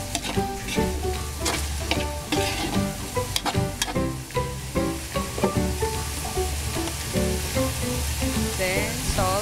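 Food frying in a pan and being stirred, with steady sizzling and repeated scraping strokes of the utensil, loud and close throughout with no talk.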